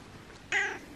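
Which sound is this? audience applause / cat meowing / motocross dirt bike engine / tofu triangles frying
cat meowing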